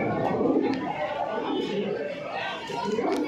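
High flyer pigeons coo in a dense, continuous murmur under the chatter of someone talking, a steady close flock with no breaks.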